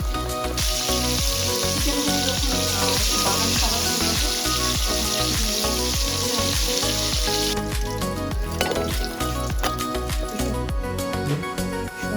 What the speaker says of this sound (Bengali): আগে থেকে গরম তেল হিট করা ছিল, এখন ফ্রাইটা দিয়ে দিলাম।